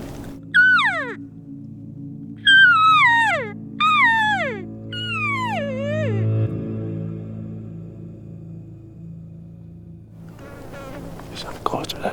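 A bull elk bugles from far off in the mountains during an archery hunt, with a few high whistling calls that slide down in pitch, separated by quiet pauses, over a faint steady background hum.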